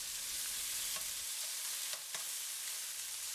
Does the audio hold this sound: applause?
no